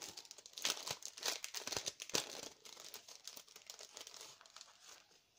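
Crinkly plastic packaging being opened from a spring embellishment box, close-up crackling and tearing in irregular bursts that fade toward the end, no voices.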